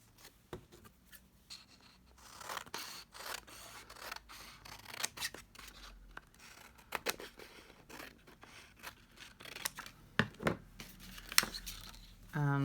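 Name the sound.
cutting card or paper with scissors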